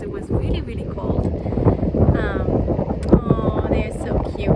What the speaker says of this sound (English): I don't know if you hear anything because it's super windy